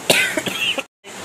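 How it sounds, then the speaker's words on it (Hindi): A few sharp, close coughs in quick succession, then a brief silence before faint room noise resumes. "खांसी हो रही है ना"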